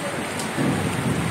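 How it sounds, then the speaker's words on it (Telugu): Heavy rain pouring down in a steady dense wash of noise, growing slightly louder partway through, with no clear voices over it. "చూడండి ఎంత వర్షం పడుతుంది, అమ్మో దూరగా పడుతుంది."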